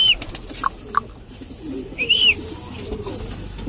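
Racing pigeons at a loft trap give soft coos amid short whistling calls and fluttering, close by, over a busy background of outdoor noise.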